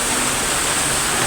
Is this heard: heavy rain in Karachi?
yes